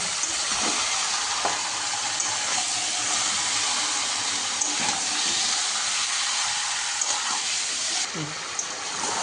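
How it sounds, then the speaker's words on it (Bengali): Marinated chicken frying in oil over a high gas flame for Bengali-style chicken maharani gives a continuous close sizzle with scattered small pops and crackles throughout. "চিকেনটাকে ভালো করে তেলে ভেজে নিচ্ছি"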